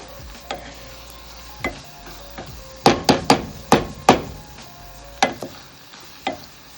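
Spoon stirring pudina pulao in a pot, a few scattered scraping knocks followed by a quick run of sharp clanks against the metal, then two more spaced strikes, close and moderately loud with no talk.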